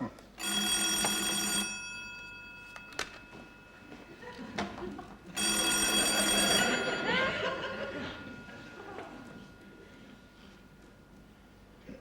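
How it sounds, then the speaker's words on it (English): An old-fashioned telephone bell in a department store sitcom rings in two long bursts separated by a pause, loud and close, with some chuckling and background chatter between the rings. "That's the phone."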